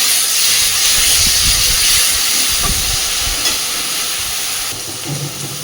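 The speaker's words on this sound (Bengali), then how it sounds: "তো একসাথে করে রসুন আর টমেটোটা এবার আমি এই পেঁয়াজ পাতার সাথে খুব ভালোভাবে কষে নিই।" Garlic and tomato frying hard with spring onion greens in a pan, a loud, steady broadband sizzle and hiss throughout, with faint scraping of stirring, easing slightly near the end.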